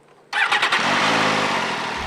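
A GP250 motorcycle engine cranks and fires after a quiet moment, barking through a few sharp revs close by before settling into a loud, rough, steady idle.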